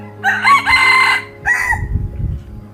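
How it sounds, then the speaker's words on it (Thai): A rooster crows loudly and close by at a rural Thai home garden, one full drawn-out cock-a-doodle-doo followed by a shorter second call, with faint low background noise. "เสียงไก่ เสียงนก ไก่แก่ มันขันอยู่"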